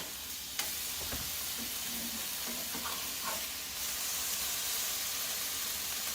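Fish sizzles steadily in a hot pan with garlic after being flipped, a continuous close crackling hiss with a few soft clicks of movement partway through.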